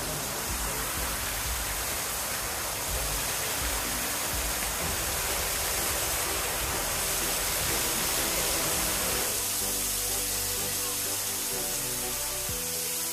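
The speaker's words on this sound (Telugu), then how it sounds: "rock artificial water fall, rock నుంచి వాటర్" An artificial rock waterfall sends pumped water spilling down over rocks in a steady, loud, broadband rush that holds constant throughout, close by and with no voices.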